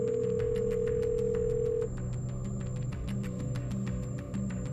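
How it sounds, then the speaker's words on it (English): Telephone ringing while a friend is dialed: a steady electronic tone sounds for a couple of seconds amid a dense buzzing of rapid repeated pulses, continuous and fairly faint, with no voices. "Let's dial him up."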